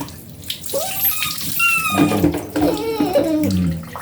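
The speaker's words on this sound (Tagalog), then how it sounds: "bubuhusan ko siya ng tubig" Water pours and splashes in a tub during a dog's bath, with sloshing and dripping sounds close by and some squeaky whimpers.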